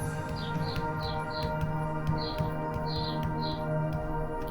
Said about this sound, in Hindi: पत्तों की सरसराहट और परिंदों की चहचहाहट दोनों ही यहाँ पे एक अलग ही शोर बनाए हुए हैं